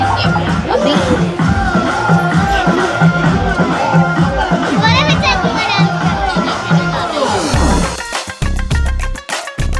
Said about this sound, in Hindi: हमसे पहले ही इतनी भीड़ पहले से बैठ चुकी है